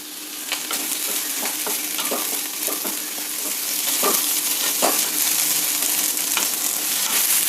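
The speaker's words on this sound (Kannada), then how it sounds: "ಈಗ ಈರುಳ್ಳಿ ಬೆಳ್ಳುಳ್ಳಿ ಸ್ವಲ್ಪ ಫ್ರೈ ಆಗಿದೆ" Chopped onion and garlic sizzle steadily in a hot pan for a traditional Malenadu tondekai gojju, with a continuous crackling hiss punctuated by scraping stirs and small clinks of a spoon.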